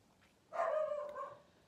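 A single dog barks once indoors, a short moderately loud woof that trails off after about a second against a quiet background.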